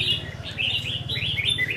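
A red-whiskered bulbul sings a bright run of warbling chirps over a steady low hum, close and clear, with no voices.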